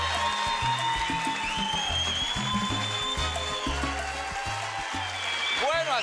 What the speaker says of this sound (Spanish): Un aplauso para el Gato Batista.